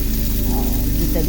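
Garlic sautéing in a pan for simple pasta, sizzling in a steady close hiss of frying oil.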